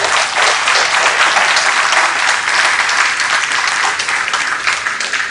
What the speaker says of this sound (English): So I'll request another round of applause for him.